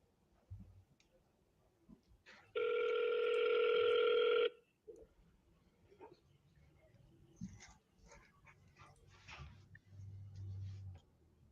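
An outgoing phone call to a real estate seller lead rings once: a steady electronic ring tone lasting about two seconds, clear and close, followed by a quiet room with faint background shuffling.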